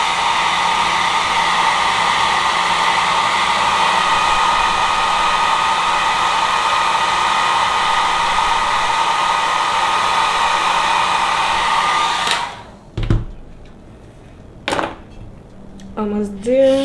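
A hair dryer blows steadily at close range, a loud continuous whir drying glue on a frontal lace wig, then cuts off abruptly, leaving a few light clicks and handling sounds.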